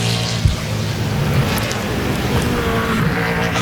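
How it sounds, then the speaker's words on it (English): A NASCAR Sprint Cup race car roars around the Watkins Glen road course during 2010 qualifying, its engine loud and steady, rising and easing as the throttle goes on and off. "You hear him in and out of the throttle a lot as he tried to go around turn 5 and the exit."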